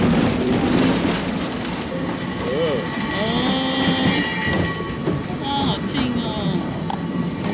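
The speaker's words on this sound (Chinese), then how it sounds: "你看对面的 一个接驳的上下坡的小火车， 感觉可以搭一下，还会啷啷响。" A small funicular train running up and down a slope clatters and rumbles steadily, with squealing wheel tones, while people talk nearby.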